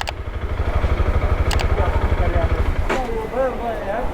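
An Apache RTX 300 motorcycle idles at a service centre with a steady, even low thrum, while people talk nearby over the engine.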